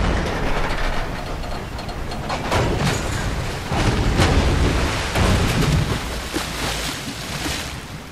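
Train rumble in the video game Grand Theft Auto V, a loud continuous roar of rolling rail cars with rhythmic rattling surges, close and without talk.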